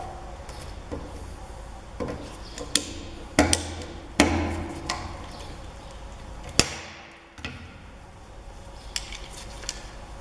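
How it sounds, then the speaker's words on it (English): Circlip pliers work a circlip out of a Mercedes B180 W245 front wheel bearing, giving scattered sharp metallic clicks and knocks against a low workshop background, with a brief pause near the middle. "we get our circlip pliers, then we can remove this circlip"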